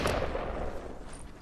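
Gunshot from a headshot in the video game Fortnite Battle Royale, a loud sharp blast at the start whose noisy tail fades over about a second and a half, heard alone.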